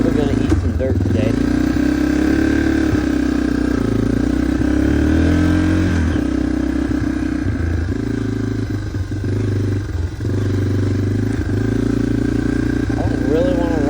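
A dirt bike engine runs steadily and loud through the whole stretch, riding on ground still wet after rain, with its tone shifting as the throttle rises and falls and brief dips near the end.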